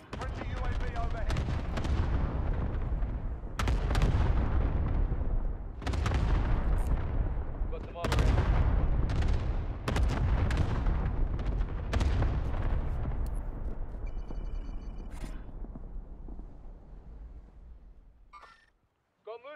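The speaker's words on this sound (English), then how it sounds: "Allied cluster strike inbound." Heavy booms of a cluster strike in a military video game, a dense barrage of deep rumbling blasts mixed with rapid gunfire and sharp cracks, continuous and loud for most of the stretch before fading out.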